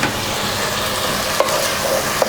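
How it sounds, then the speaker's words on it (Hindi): Chinese-style chicken with ketchup and spring onion sizzles steadily over high flame while a spatula stirs it, with a couple of sharp scraping clicks against the pan. "मिक्स करेंगे थोड़ा हाई फ्लेम पे।"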